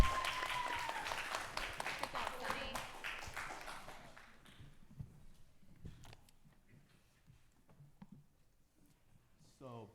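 Audience applause at a club event, strong at first and then thinning out to scattered claps; a voice is heard faintly over it near the start.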